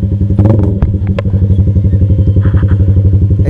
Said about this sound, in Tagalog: Atras muna natin motor.